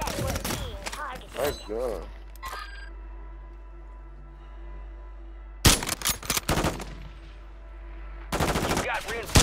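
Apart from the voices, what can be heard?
gunfire in Call of Duty video game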